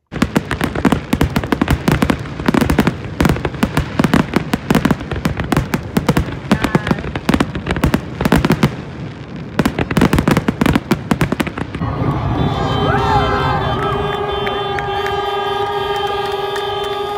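Fireworks burst over a lake for a Fourth of July celebration, a rapid barrage of sharp cracks and booms heard loud for about twelve seconds, followed by a sustained whistling, horn-like tone.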